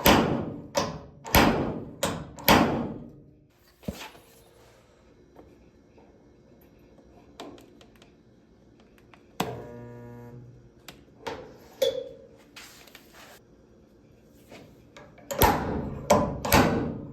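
Hammer taps knocking a dent out of a 1968 Ford Bronco steel door panel, sharp close metallic hits in quick bursts at the start and end, with scattered single taps in between.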